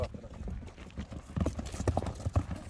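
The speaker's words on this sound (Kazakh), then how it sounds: "Анда атты айдап ойнай беріңіздер" Horses' hooves clip-clopping at a kok-boru team training session, a rapid uneven clatter of hoofbeats that grows louder and busier toward the end over outdoor background noise.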